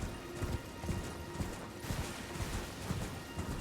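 A horse's hooves clip-clop in Elden Ring, a steady rhythmic trot of soft thuds repeating about twice a second over a low ambient bed, with no voices.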